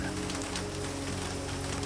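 Soft, steady rain falls on glass outside a rooftop greenhouse, a continuous gentle patter with no break.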